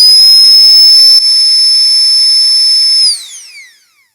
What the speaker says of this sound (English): Turning the pump on is a double click on the start button